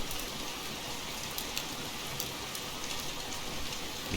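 Steady rain pours in the Russian Fishing 4 video game, a dense, even hiss with scattered sharper drop hits, continuous and alone with no voices.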